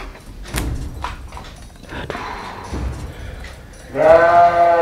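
Scattered knocks and scrapes lead into a goat's sudden close bleat near the end, loud and wavering over a quiet room with no talking.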